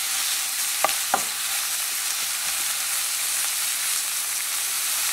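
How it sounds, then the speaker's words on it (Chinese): Cabbage and radish stir-frying in a pan, a constant bright sizzle with a few sharp scrapes of the spatula early on, close and loud. "把它煎软。"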